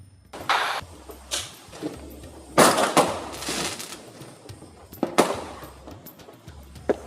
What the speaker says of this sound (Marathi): इथं मस्त असे फटाके फुटत होते